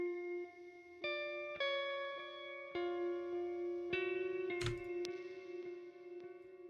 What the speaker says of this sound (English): and then obviously reverb will kind of widen it.